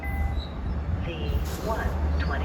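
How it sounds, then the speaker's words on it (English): A Long Island commuter train pulls into a station platform near a Fire Island ferry stop, a low steady rumble with faint metallic squeals and hiss rising over it, while a voice talks over the noise. "1:29 train to Babylon is now arriving on platform A"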